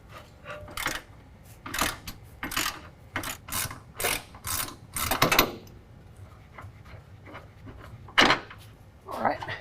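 A ratchet wrench with a 21 socket loosens a shock absorber bolt on a 2019 GMC Sierra 1500 pickup, giving repeated rhythmic clicking bursts of the pawl at close range with pauses between strokes.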